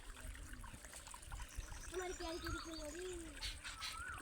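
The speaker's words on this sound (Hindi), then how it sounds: "आकब पानी डाल रहा है, ये देख" Water is poured into a container, producing a soft, continuous splashing trickle beneath nearby voices talking throughout.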